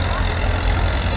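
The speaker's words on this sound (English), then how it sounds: "This is probably a two bottom plow tractor." Small Allis-Chalmers two-bottom plow tractor, roughly 14 to 16 horsepower, running steadily at a harvest days tractor pull, a loud, continuous low engine drone with no pauses.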